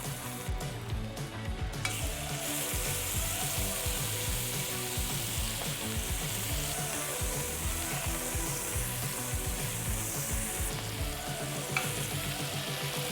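Meat for chimichangas sears in a hot pan with a loud, steady, close sizzle and crackle that runs unbroken throughout, with no voices.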